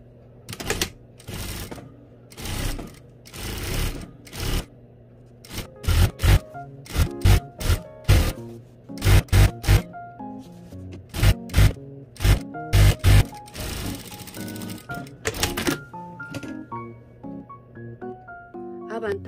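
A sewing machine stitching the front facing edges of a tailored jacket from top to bottom, heard close as short mechanical bursts of rapid stitching separated by pauses, growing into denser runs midway before stopping.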